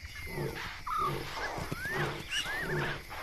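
Deep, rumbling roars from male lions sound repeatedly at a distance, with birdsong whistling faintly over the top.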